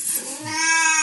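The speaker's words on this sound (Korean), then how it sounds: "고양이가 또 소리를 지르며 돌아다닐 것 같아서" A cat lets out a single loud, rising meow, close and clear, lasting about a second.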